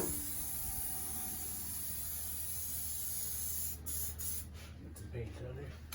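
An aerosol can hisses steadily as brown paint is sprayed onto bare metal on a camper build to keep rust off. The close, continuous spray breaks up near the end, where a voice briefly comes in.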